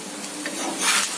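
Ghee poured over an onion adai on a hot pan hisses in a short, loud, close burst of sizzling that swells near the end.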